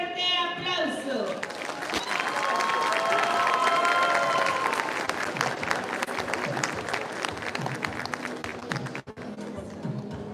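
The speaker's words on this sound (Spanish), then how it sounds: "La recibimos con un fuerte aplauso." Crowd applause greeting a beauty pageant candidate at a town queen election in San Mateo, Valparaíso, Zacatecas, steady dense clapping throughout with some cheering, loud and sustained over music.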